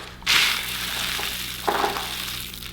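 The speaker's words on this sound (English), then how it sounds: "now I'm gonna go ahead and put some of these fishbowl beads" Fishbowl beads poured and stirred into store-bought slime, a crisp crunchy rustle that starts abruptly, continues as a soft steady crackle, then swells into a second brief burst of crunching near the end, close and fairly quiet.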